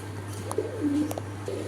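Iranian pigeons coo softly over a steady low hum, with a few short murmuring calls in the middle of the brief stretch and faint background noise.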